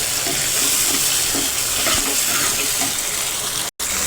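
Tomatoes stirred and sautéing in a pan over onions that have already softened, for a sandwich filling: a steady broadband sizzle with soft scraping stir sounds, close and continuous, cut by one brief dropout near the end.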